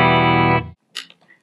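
A distorted electric guitar chord from a Schecter Demon 7 seven-string rings out loud and sustained, then cuts off abruptly, followed by a few faint string scrapes and small noises.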